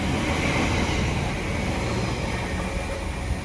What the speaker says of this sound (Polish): Jedziemy pierwszy raz tym pociągiem.